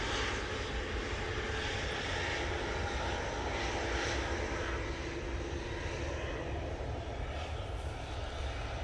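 A KLM airliner's engines roar steadily at Manchester Airport on a windy day, a broad continuous drone heard from a moderate distance without a break.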